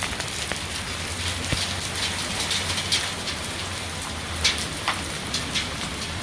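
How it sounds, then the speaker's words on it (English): Small hail falls during a thunderstorm, a dense, steady patter dotted with sharper ticks of pellets striking nearby surfaces, continuous and without voices. "Not very big hail."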